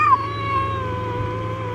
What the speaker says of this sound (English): I don't think he's deaf because he's meowing back.